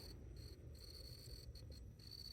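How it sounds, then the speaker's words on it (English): A cricket chirps steadily in a late-summer vegetable garden with butterbeans and chamomile, its high repeating trill faint but clear over a low outdoor background hum, with no one talking. "can you hear the cricket?"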